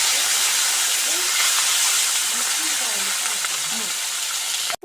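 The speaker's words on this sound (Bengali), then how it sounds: "এখন কয়েকটা পুঁটি আছে ভাজে নেব ওই তেলে।" Small puti fish frying in hot oil, a steady loud broadband hiss and spatter that fills the whole clip without pause, ending with an abrupt cut.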